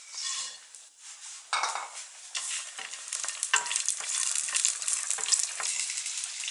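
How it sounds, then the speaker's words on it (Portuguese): Garlic and roasted peanuts fry in a pan, a steady broadband sizzle with repeated scraping and clinking of a utensil stirring against the pan, fairly close and continuous, no voices. "primeiro nós vamos fritar o alho"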